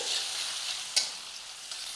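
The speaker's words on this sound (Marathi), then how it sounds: "तेल तापलं यामध्ये घालू मोहरी मोहरी तडतडू द्या मग जाईल जिरं हिंग आणि ठेचलेला लसूण याला परतून घ्यायचं" Mustard seeds, cumin, asafoetida and crushed garlic sizzle in hot oil for a tempering, a continuous bright hiss with a single sharp crackle near the middle and a fainter one after it, with no voices.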